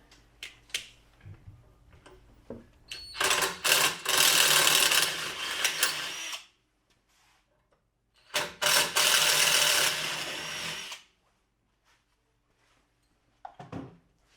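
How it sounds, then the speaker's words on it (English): A drill grinds through a metal light bar mount, enlarging its holes, in two bursts of a few seconds each, separated by a short pause, with a few light clicks and handling sounds around them. "we're just gonna drill them out slightly bigger so that these will fit through no problem"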